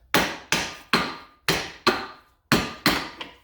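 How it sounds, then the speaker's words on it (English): A hammer strikes an old PTO seal from a Case 311B tractor clamped in a vise: eight sharp metallic blows spaced evenly about half a second apart, each loud and close with a quick ringing decay. "Clamp it on and maybe give it a wrap with the hammer from underneath."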